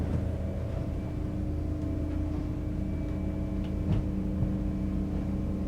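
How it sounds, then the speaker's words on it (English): Steady low engine drone and hull rumble fill the port stern guest cabin of a Bluegame BGM75 monocat motor yacht under way at sea, continuous and moderately loud with faint creaks. "A little bit more engine noise in here."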